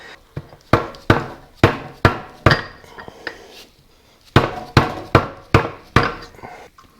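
A soft-faced hammer strikes the gearbox shaft of a Morris Mini 850 during stripping. About ten sharp, close whacks land in two bursts, with a short pause between them and no talk.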